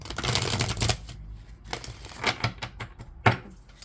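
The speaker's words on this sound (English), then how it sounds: "It's been a while since I've used this deck. Let's do a quick shuffle." A deck of cards being shuffled in quick riffling bursts, a long flutter followed by several shorter snaps, close by and alone.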